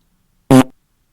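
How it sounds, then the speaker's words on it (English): A single cartoonish fart, loud and close, a short brassy buzzing burst of about a quarter second that trails off quickly into silence. "Pumpy produced a fart like never before."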